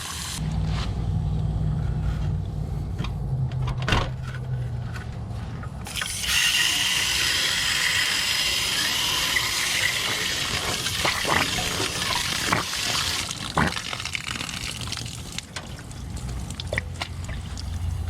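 Pressurized water flushes out of an RV water tank, gushing steadily with a hissing, splashing roar that grows stronger partway through and keeps rushing without pause.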